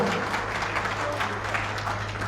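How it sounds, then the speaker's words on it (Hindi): Steady applause from a gathered crowd honoring former Union minister Anurag Thakur at a rally in Badagaon, a dense, moderately loud patter of clapping over a constant low electrical hum. "एक बार जोरदार ताली अनुराग जी के लिए"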